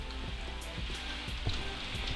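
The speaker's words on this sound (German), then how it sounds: "Das hört ihr jetzt, den Regen, ne?" Rain in a survival video game patters as a soft, steady hiss near a cave, faint and even throughout with no speech.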